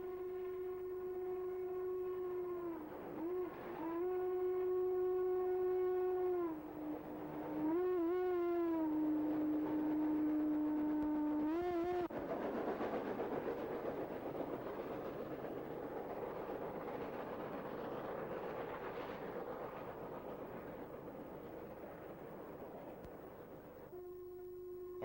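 Norfolk & Western 1218 steam locomotive works upgrade near Shawsville, its whistle sounding long held blasts and short toots before a loud, steady roar of exhaust and rolling train takes over.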